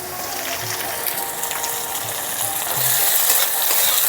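Potatoes frying with freshly added ginger paste, stirred in a hot pan: a loud, dense, continuous sizzle with faint scraping and clicking underneath, swelling slightly toward the end, no talking.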